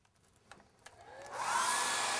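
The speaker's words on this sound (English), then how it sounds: "now we're gonna start blow drying and tightening this" Hair dryer blowing onto plastic window insulation film, heat-shrinking it tight on a home window; the airflow starts faintly, then swells after about a second into a loud, steady rushing roar that holds to the end.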